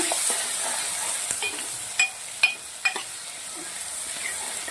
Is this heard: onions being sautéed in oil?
yes